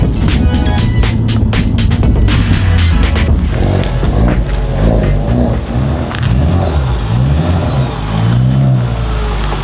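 A Honda Civic Type R FK8 strapped to a dyno revs hard, its engine note loud and sustained with rising and falling pitch sweeps and a throbbing, close-up roar that carries throughout.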